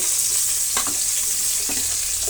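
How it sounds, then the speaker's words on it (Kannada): Bitter gourd pieces fry in hot oil in a pan, a steady hiss with a few brief stirring scrapes, close and alone. "ಹಾಗಲಕಾಯಿನ ನೀಟಾಗಿ ಫ್ರೈ ಮಾಡ್ಕೊಳ್ಳೋಣ. ಎಣ್ಣೆಯಲ್ಲಿ"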